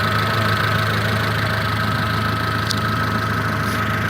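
A Honda CRX engine, repaired after a collision and warmed to full operating temperature, idles steadily up close with a constant low hum and a faint rhythmic ticking.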